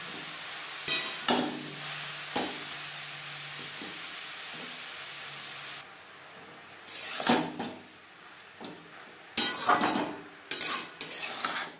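Red amaranth leaves are stirred and mixed in a pan, with scattered clinks and scrapes of a spatula against metal over a faint background sizzle and a few louder bursts of clattering near the end.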